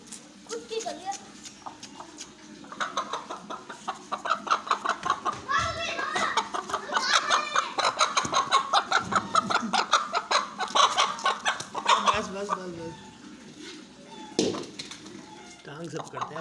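A hen clucks and squawks repeatedly, fairly close, while children talk excitedly over it throughout.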